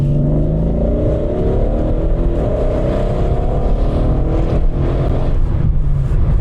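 A tuned 750 hp Mercedes S63 AMG with a twin-turbo 5.5-liter V8 roars steadily from inside the cabin, a loud, continuous deep drone that rises and shifts in pitch as the car accelerates.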